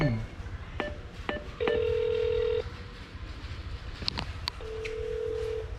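A phone call to a delivery customer rings out unanswered with two long steady tones separated by a gap, over constant background rumble and a few scattered clicks and beeps.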